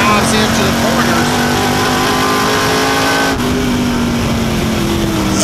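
Crate late model race cars roar around the oval at Virginia Motor Speedway, a steady loud engine drone with harmonics shifting as they dive into the corners, while a race commentator talks over the noise.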